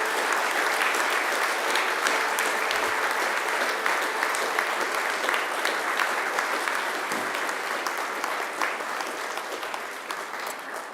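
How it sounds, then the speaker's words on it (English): Sustained audience applause at a Macquarie University graduation ceremony, a dense steady clapping from a large crowd that fills the whole stretch without letup, fading only slightly toward the end. "I invite you to give them a mighty round of applause in thanks and gratitude"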